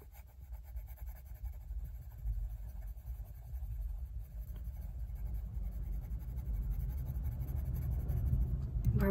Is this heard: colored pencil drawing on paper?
yes